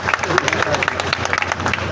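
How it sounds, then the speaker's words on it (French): A crowd applauds at a magistrate installation ceremony, brief brisk clapping with busy room noise and voices mixed in. "je vous demande d'applaudir"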